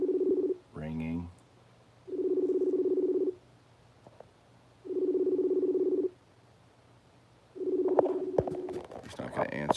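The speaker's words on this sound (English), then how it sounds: "Ringing." Phone call ringback tone on a call placed during a live chat: three long, steady rings with pauses between, loud and close, with a brief voice before and some talk and clatter at the end.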